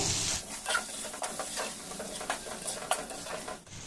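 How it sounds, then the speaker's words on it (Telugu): Vegetables sizzle in hot oil with a steady crackling hiss, punctuated by scraping stirs of a utensil against the pan. "ఈ యొక్క నూనెలో ఒక 2 మినిట్స్ వేయించుకోవాలండి"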